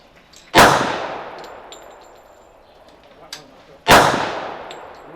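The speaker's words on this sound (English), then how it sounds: "out shooting Hillbilly Ups Challenge with a custom Springfield 1911 and bullseye loads" Two sharp, loud gunshots from a custom Springfield 1911 .45 ACP pistol fired with bullseye loads outdoors, a few seconds apart, each with a short ringing decay and a faint metallic tick between them.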